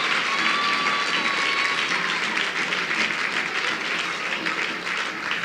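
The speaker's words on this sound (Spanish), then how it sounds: "Bríndele por favor un aplauso al Señor Jesús" A congregation at a Spanish-language evangelical church service applauds, a dense, continuous wash of many hands clapping at steady volume from start to finish, heard from within the crowd.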